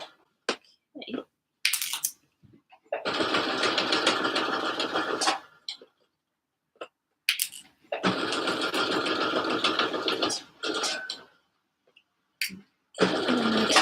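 Sewing machine stitching a seam on handmade slipper boots, running in several loud bursts of rapid needle chatter separated by quiet pauses, with brief clicks and handling noises between runs.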